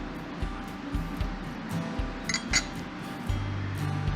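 Glasses clink lightly a few times in a toast over dessert, faint chinks over a low background hum, with no talk during the clinks.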